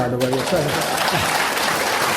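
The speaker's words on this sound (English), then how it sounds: "You're allowed to clap too" An audience claps after a book talk in Oregon, with dense applause filling the clip and a speaking voice over it at the start.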